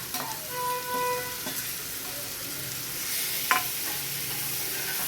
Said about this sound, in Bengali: পনিরটা দিয়ে দিচ্ছি। এটার মধ্যেই সব দেওয়া আছে, আর কিছুই দিতে হবে না, শুধু একটু ভালো করে কষাতে হবে।